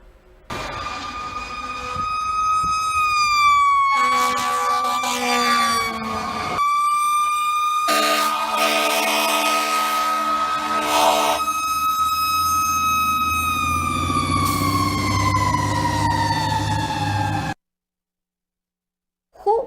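A fire truck siren wails loudly and steadily, its tone swooping up and down in long sweeps for about seventeen seconds before cutting off into silence.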